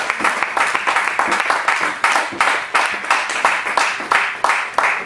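A church congregation claps together in praise, dense steady applause with rhythmic beats rolling continuously and loudly throughout.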